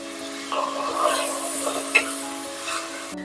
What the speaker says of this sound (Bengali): দুই মিনিটের মতন কষিয়ে নিয়েছি তেল ভেসে উঠেছে